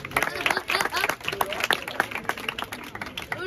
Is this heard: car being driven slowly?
no